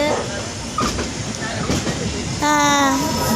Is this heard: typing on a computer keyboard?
no